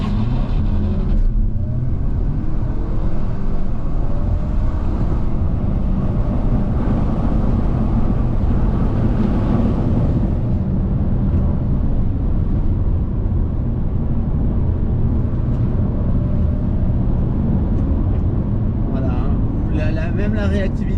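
A 2020 Mercedes C 300e plug-in hybrid, 320 hp, accelerates hard in Sport Plus mode, its engine rising steadily as the car pulls away and its tyres slip at launch, heard from inside the cabin under continuous talk.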